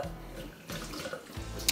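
Hot and cold water run together from a household tap, a steady rushing gush that swells and dips in pulses, close and fairly loud with no talk.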